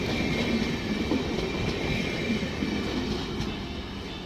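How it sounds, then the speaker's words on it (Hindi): The Jaynagar Patna Intercity Express passes without stopping through Digha Halt, an elevated station in Patna, India: a loud, steady rumble of rolling wagons with faint clickety-clack and wheel squeal, and no voices. "Jaynagar Patna intercity express. इस ट्रेन का यहाँ हॉल्ट नहीं है।"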